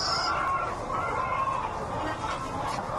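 Chickens cluck softly on a poultry farm amid a busy background of farmyard noise, with scattered bird calls close by.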